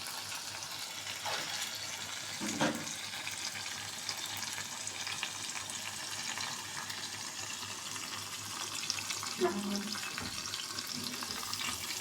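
Large freshwater prawns go into a spice paste frying for a prawn bhuna, giving a steady close sizzle with a couple of brief splashy bursts as they hit the hot oil and are stirred.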